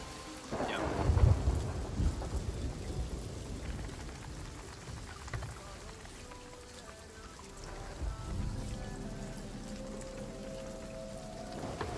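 Thunder rumbles loud and close over steady rain in a pirate video game storm, a heavy crack early on fading into a continuous downpour with a second swell of rumbling near the end.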